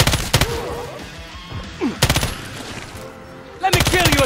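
Gunfire in Killing Floor 2, loud rapid bursts of automatic weapons in three separate volleys, with someone talking excitedly between them.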